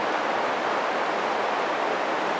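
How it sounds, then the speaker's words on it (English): Babbling brook of flowing water heard close up, a steady broadband rush and burble filling the whole stretch with no pauses and no voices. "I'm standing next to a babbling brook"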